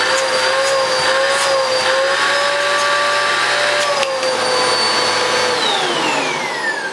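A Goblin bagless upright vacuum cleaner runs close by with strong suction, a loud steady motor whine that shifts slightly in pitch as the hose is used.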